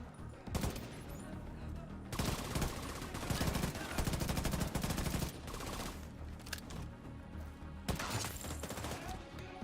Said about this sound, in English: Oh, there's the mortars.